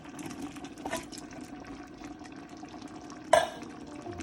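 A pot of red kidney beans and sausages is stirred, giving a soft wet churning with faint scrapes and one sharper clink of the spoon against the pot near the end.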